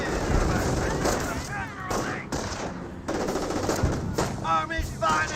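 Rapid machine-gun bursts and scattered gunshots crackle through a Company of Heroes battle, loud and repeated in clusters, with voices talking under the fire.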